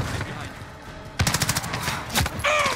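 MP5 submachine gun fire in Call of Duty: Modern Warfare, a rapid close burst of shots followed by a shorter second burst amid game noise.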